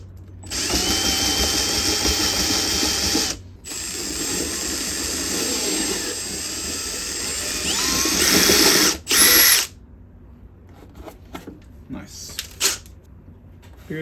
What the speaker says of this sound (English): that will guide my drill, and we'll go backwards so we don't get a tear out, and we'll be on 1 speed.